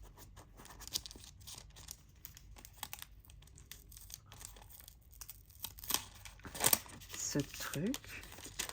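A Ffern parcel is torn open, with crinkling paper and sharp ripping bursts growing louder toward the end, following quieter rustling while someone talks in the background.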